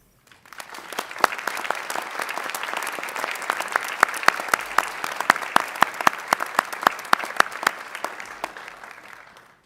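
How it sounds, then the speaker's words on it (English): A commencement audience gives faculty a hearty round of applause: dense, sustained clapping from a large crowd lasting nearly ten seconds, with a few sharp individual claps standing out before it fades. "everyone please join me in thanking our outstanding faculty with a hearty round of"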